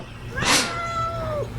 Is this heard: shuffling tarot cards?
no